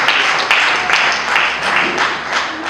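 A church congregation claps in a loud, roughly rhythmic pattern, with a burst of hand claps about every half second over a continuous crowd wash, with no voices on top.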